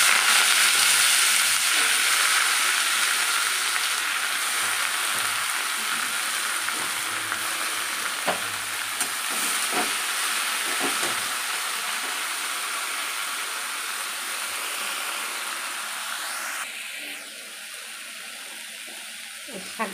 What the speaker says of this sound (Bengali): শাক ভাজাটা বসাবো। কালো জিরে ফোড়ন দিলাম,